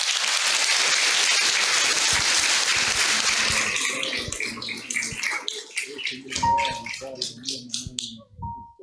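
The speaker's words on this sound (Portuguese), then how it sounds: "Aplauda o Senhor." A church congregation breaks into loud applause at a thanksgiving service for a child's presentation, with dense clapping that thins out into scattered claps toward the end while voices murmur beneath.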